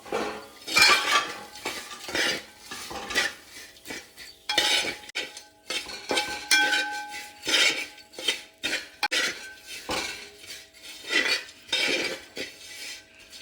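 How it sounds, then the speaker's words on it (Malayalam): Fried anchovies being stirred into a fish pickle, a spoon scraping and clinking against the pot in repeated close strokes with brief pauses, and a faint sizzle beneath. "നമുക്ക് ഫ്രൈ ചെയ്തിരിക്കുന്ന മീൻ ഇട്ട് കൊടുക്കാം ഇനി ഇത് നന്നായിട്ട് ഇളക്കണം"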